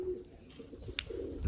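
Low, soft pigeon coos murmur through the whole stretch, close by, with a brief sharp click partway through.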